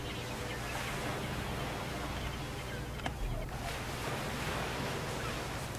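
Steady wash of water and surf in the video game ARK: Survival Evolved, with a constant rushing hiss and a faint splash partway through.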